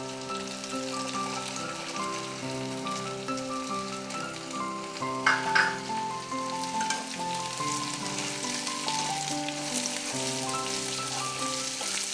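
Steady sizzling of chopped raw papaya frying in a pan, continuous throughout, with soft background music underneath.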